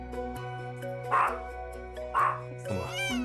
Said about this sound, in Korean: 맥스가 짖자 보호자들은 빛의 속도로 멀어지는데요